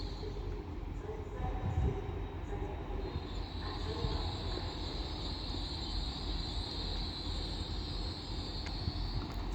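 An LNER passenger train pulls into York station on the East Coast Main Line, a steady low rumble of rolling wheels with a faint high metallic squeal building, continuous and fairly close in an open station setting.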